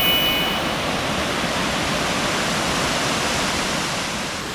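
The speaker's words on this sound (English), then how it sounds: "one last look at Ganoga Glen, as well as waterfall number 21, Mohawk Falls." Mohawk Falls, waterfall number 21 in Ganoga Glen at Ricketts Glen, roars as a steady, loud broadband rush of falling water, continuous and unchanging, with no talk.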